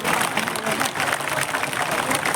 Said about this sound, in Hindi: जोरदार तालियां बजाओ, रुकने नहीं चाहिए ताली चारों तरफ से।